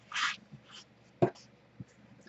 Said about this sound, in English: whack it with scissors